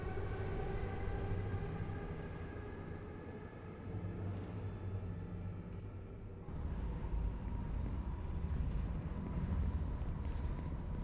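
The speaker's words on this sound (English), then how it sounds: "Why would the train start when I pick up the artifact?" A video game train rumbles into motion in an abandoned setting, its deep, continuous rolling roar and faint wheel squeal growing heavier partway through, loud and steady.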